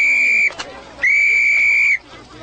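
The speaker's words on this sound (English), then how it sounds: "that ain't a police whistle, it's a sporting whistle." A sporting whistle gives two shrill, steady blasts, the first about half a second long and the second a full second, sounding loud and close with a brief gap between them.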